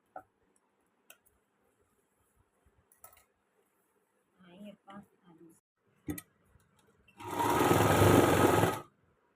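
Sewing machine stitching an umbrella palazzo seam, a loud close burst of rapid mechanical stitching near the end after scattered handling clicks and brief talk.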